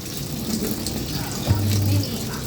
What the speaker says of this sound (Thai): น้ำไหลแล้ว